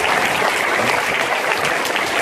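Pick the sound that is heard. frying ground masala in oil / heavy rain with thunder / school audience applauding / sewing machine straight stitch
school audience applauding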